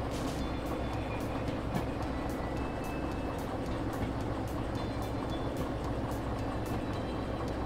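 A locomotive rolling along the track in the train simulator Derail Valley, a steady low rumble of rail noise with faint clicking, continuous and moderately distant, with no talking.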